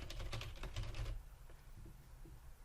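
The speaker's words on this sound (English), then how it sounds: "type whatever you want to type in here" Quick bursts of typing on a computer keyboard, a rapid patter of keystrokes for about a second, then a few scattered, quieter clicks, close and faint.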